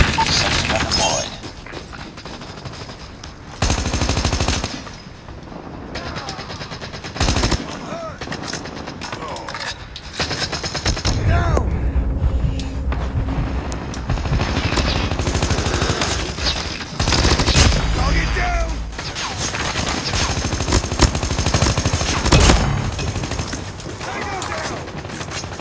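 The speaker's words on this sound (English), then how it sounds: "Sentry gun deployed." Automatic gunfire from a sentry gun in a Call of Duty match on Nuketown Russia, loud sustained bursts and rattling volleys with booms and shattering, broken by short gaps, with shouted game voices mixed in.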